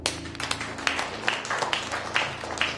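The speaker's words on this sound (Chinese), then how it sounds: "好啊，大家鼓掌欢送一下吧。" Group applause at an office farewell, a crowd clapping steadily to send off a colleague, sustained and moderately loud with a few voices mixed underneath.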